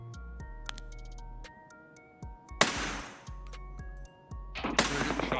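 Gunfire in the video game Escape from Tarkov: two harsh bursts of shots crack out over a low, humming game ambience with scattered ticks.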